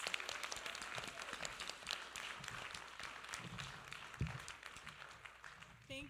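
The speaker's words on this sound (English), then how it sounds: "can we get a round of applause for our timekeeper?" Steady applause from a crowd at a mayoral forum, clapping filling the room evenly for several seconds at a moderate distance, with no speech over it.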